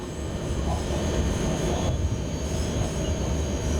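An E186 electric locomotive accelerates uphill in the SimRail train simulator, a steady, dense rumbling drone with a faint high whine, loud and continuous with no talking.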